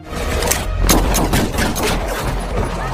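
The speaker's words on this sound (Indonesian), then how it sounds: "terjadilah baku tembak di antara keduanya" Gunfight from a John Wick film, with a dense loud volley of gunshots and heavy thuds blending into continuous rumbling action noise over a few seconds.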